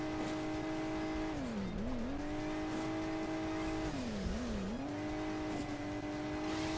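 Supercar in the mobile game Hill Climb Racing 2, a continuous droning engine that rises and dips in pitch as it revs, with tire and road noise underneath and no speech.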